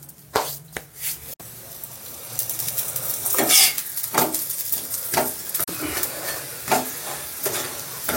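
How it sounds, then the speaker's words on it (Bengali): Cabbage parathas frying in a pan, a steady sizzle with scraping and clinking of a spatula against the pan at irregular intervals, close and moderately loud with no talking. "তো এরকম করে সব পরোটাগুলো ভেজে নেব"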